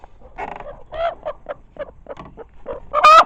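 Farm hens cluck in a run of short, close, choppy calls with small gaps between them, ending in a louder, sharper squawk.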